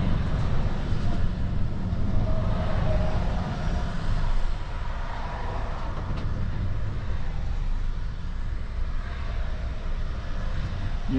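New generation Scania truck driving, its steady low engine drone and road rumble continuous and close throughout, with no voices over it.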